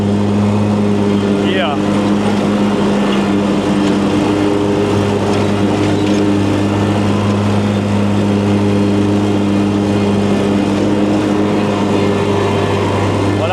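A lawn mower cuts grass close to a road, its engine a loud, steady drone that runs without a break, with one short spoken word partway through.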